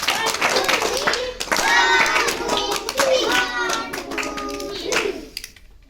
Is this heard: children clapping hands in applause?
yes